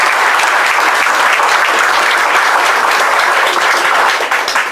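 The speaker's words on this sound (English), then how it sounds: "let's clap that for them." Loud, sustained applause from a crowd at a veterans village anniversary celebration, dense continuous clapping that holds steady and begins to thin out toward the end.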